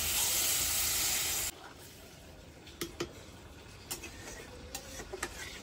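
Water poured into a frying fish curry of Ganges chapila and khoira fish with cumin and chilli paste gives a loud sharp hiss for over a second, then quieter sizzling with scattered ticks and pops.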